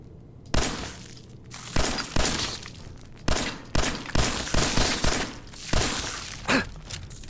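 Gunshots fired at a radroach in the Fallout 4 video game, survival mode. Several loud, sharp bursts come at irregular intervals, each with a short rattling tail.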